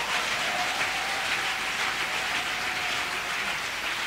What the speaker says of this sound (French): Il faut bien acclamer le Seigneur.